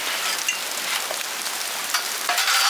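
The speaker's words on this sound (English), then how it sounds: "Oh, here comes the rain." Rain begins falling in a windy garden, a close crackling hiss of drops with a few sharper spatters rising toward the end, no one speaking.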